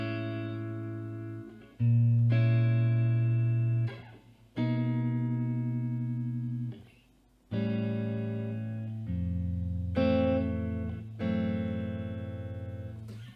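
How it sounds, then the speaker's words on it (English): Sustained Telecaster electric guitar notes and chords on the neck pickup with a warm, round, mellow tone, ringing out in several long phrases with brief gaps, played alone. "You can go from really warm tones in the neck pickup"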